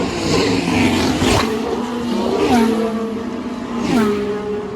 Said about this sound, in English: Take a look at how fast these F1 cars are going.